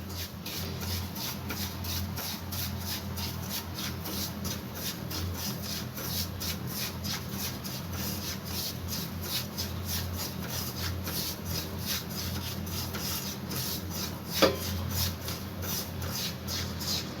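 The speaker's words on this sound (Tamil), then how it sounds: "இதில் ஒரு கப் ரவை சேர்த்து நல்லா ஃப்ரை பண்ணிக்கலாம் நல்லா வாசம் வர வரைக்கும் ஃப்ரை பண்ணிக்கலாம்" A cup of semolina (rava) is stirred and fried in ghee in a pan, giving a steady, rhythmic scraping and rustle that runs throughout, with one brief sharper knock near the end and no voices.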